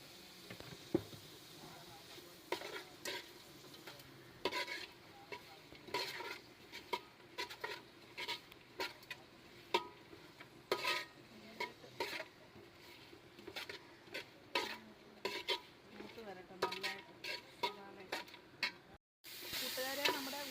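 Onions and green chilies with a spoon of salt sauté in a pan, a faint sizzle broken by frequent sharp scraping and clicking stirs, with a brief dropout near the end.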